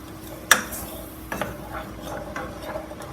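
A spoon stirring a mac and cheese roux in a pot, with a sharp clack against the metal followed by softer scraping strokes at an uneven rhythm, close and without talk.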